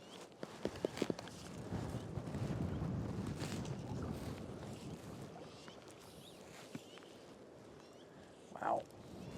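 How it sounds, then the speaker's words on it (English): Gusty wind rumbles and buffets on the Green River during a fishing outing, a low roaring wash rising and easing, with small knocks and a brief higher noise near the end. "Wow, that wind is doing a job."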